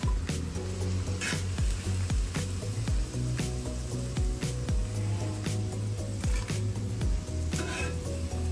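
Green cauliflower 65 frying in oil sizzles steadily up close, with repeated clinks and scrapes of a utensil turning the pieces against the pan, and no voices.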